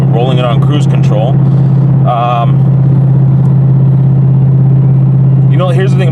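A car's aftermarket exhaust drones at a steady low pitch while cruising at 67 mph on cruise control, a constant loud hum beneath intermittent talking.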